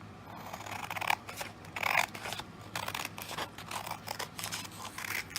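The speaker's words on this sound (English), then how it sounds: "I'm going to take my packet and I'm going to cut it down the" Scissors slice down the middle of a paper packet in a string of close, crisp, rasping cuts with brief pauses between strokes, fairly loud and without voices.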